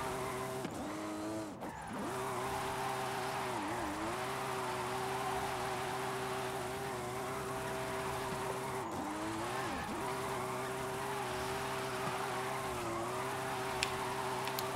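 A car drifting in Forza Horizon 5 holds a steady, droning engine note with brief dips in pitch as it shifts or slides, with faint tire noise throughout.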